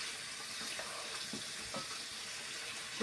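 Water is poured into a pot of pork rib and potato stew, a continuous close splashing rush over a faint background sizzle with no voices.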